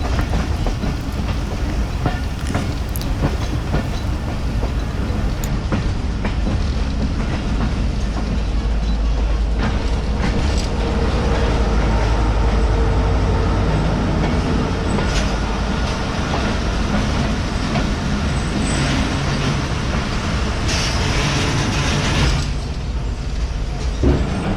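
The Chenab Express passenger train rolls loudly on the rails between Lala Musa and Sargodha in Pakistan, a continuous heavy rumble with wheel clatter and rattling carriages heard from on board, with no talk.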